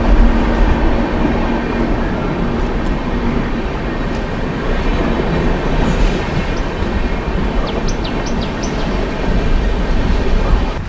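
Inside a first-class AC coach of the Durg Puri Express near Bhubaneswar, a steady loud rumble of the moving train fills the cabin, with faint wheel squeals and light rattles on top.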